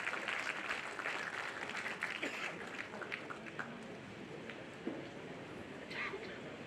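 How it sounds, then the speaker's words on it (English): Graduation day audience at HKBK College of Engineering in Bangalore applauding the chief guest, a broad, continuous wash of clapping from a large crowd, fairly distant and even, with a few louder claps near the end. "Please offer a big round of applause for our Chief Guest"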